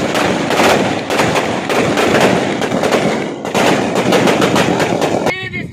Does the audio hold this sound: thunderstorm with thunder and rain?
no